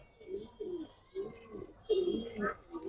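Pigeons coo in a series of soft, low, throaty calls, several bursts in a steady rhythm, close by with no talk. The birds are coloured fancy pigeons, a double-tagged youngster among them.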